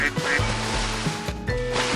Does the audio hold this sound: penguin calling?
yes